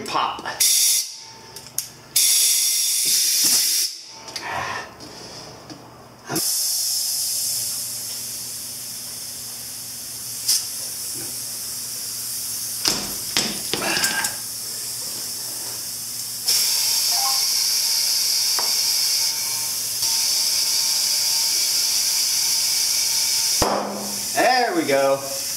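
Compressed air hisses loudly while a front motorcycle tire on a Honda CB1000 custom is inflated to seat the bead, a steady close rush with brief pauses and metallic clicks, ending in a sharp pop, with voices talking over it.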